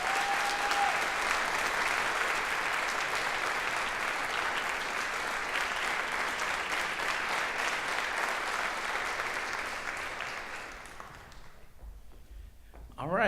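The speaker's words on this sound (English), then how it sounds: "Let's give him a round of applause." Sustained applause fills a jazz band concert hall as the audience claps for the middle school jazz band director, loud and dense for about ten seconds before thinning out and fading away.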